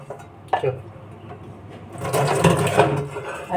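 A washing machine runs in a home, its mechanical whirring and rattling starting faint, then swelling into a louder, steady churn about halfway through, with faint voices nearby.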